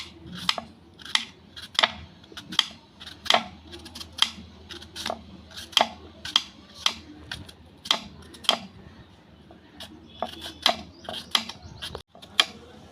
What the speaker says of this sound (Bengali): এবার বাকি আমটা এরকম করে কেটে নেবো